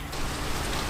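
Steady rain falls outdoors during a nighttime police arrest in Jacksonville, a dense, even hiss of drops on surfaces that continues unbroken for the whole second, with no voices.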